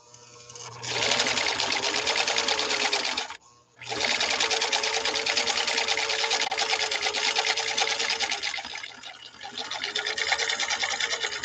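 A Husqvarna 21A sewing machine, back from repair after a capacitor failure, stitches with a fast close rattling run, pauses briefly, then sews on steadily to the end.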